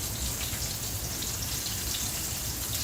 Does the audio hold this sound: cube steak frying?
yes